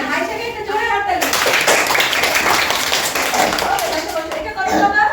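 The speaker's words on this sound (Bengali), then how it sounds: "মাইশাকে একটা জোরে হাততালি" Children in a classroom clap for a classmate, a dense burst of applause lasting a few seconds, with a teacher's voice talking just before and after.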